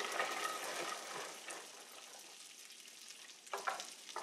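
Almonds and rosemary sizzle in a frying pan, a steady soft crackle with light stirring, fairly quiet and with no talking.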